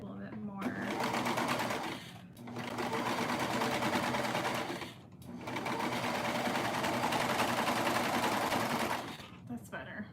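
Sewing machine stitching in three sustained bursts, a close, loud mechanical whir broken by short pauses, with a person talking over it.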